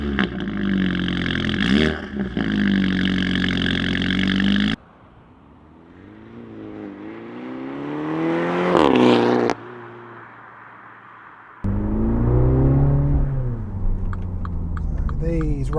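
A modified Mini Clubman JCW engine pulls hard down the road, its note climbing in pitch, dropping sharply at each shift, then climbing again. Loud and close throughout.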